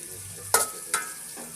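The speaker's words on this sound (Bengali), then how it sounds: "পেঁয়াজগুলো হালকা ব্রাউন হওয়া অবধি ভেজে নেব।" Onions frying in a pan over a low gas flame, a faint steady sizzle broken by a couple of brief stirring scrapes.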